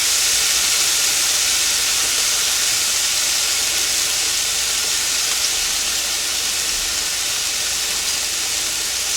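Garlic, ginger and carrots sizzle steadily in hot stir-fry oil for a chicken and shrimp stir-fry, a dense, constant hiss with no break and no voices.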